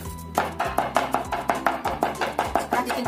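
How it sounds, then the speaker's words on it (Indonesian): Chicken is chopped finely on a cutting board by hand, with a quick, even run of sharp knife taps, about four per second, close and fairly soft with no speech. "Ayamnya kita cincang sampai halus."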